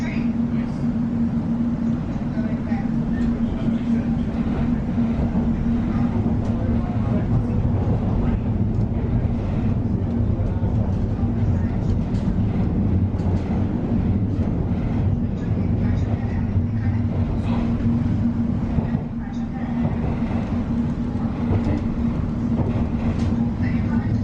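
A train runs at Watford Junction, heard as a loud, steady low rumble and drone that holds without pause, with a faint roar above it.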